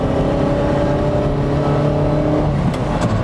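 A 1980 Ferrari Dino 308 GT4 V8 engine drones steadily with a low, even idle and a slight swell in pitch near the end, close and loud, with no voices.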